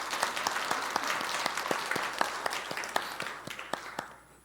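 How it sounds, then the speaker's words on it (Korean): A church congregation applauds to welcome a visiting family during a Sunday service: steady, dense hand clapping from many people fills the room at moderate level, with sharper individual claps standing out before it tapers off at the end. "박수로 한번 환영하겠습니다."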